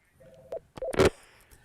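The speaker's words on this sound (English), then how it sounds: "Let's answer the phone." A phone line rings through on a call-in sports radio show, short electronic tones in a few separated bursts, clear and close, with no one speaking.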